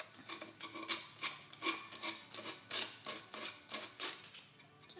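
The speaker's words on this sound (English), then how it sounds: "you're just gonna take a little bit of your sandpaper" Sandpaper rubs by hand across a wooden furniture surface being prepared for painting: close, rhythmic scratchy strokes repeating steadily for several seconds, with no talking.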